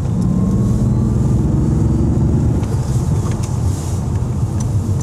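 A 1991 BMW 850i E31 with its V12 engine accelerating, a loud, steady low engine drone heard from inside the car, continuous with some wind noise and no talk.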